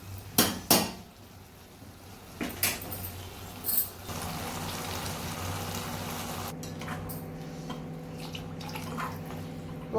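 Water is poured into a homemade vegetable biryani pot as a steady, close rushing stream, preceded by a few metallic knocks and clinks of utensils against the pot.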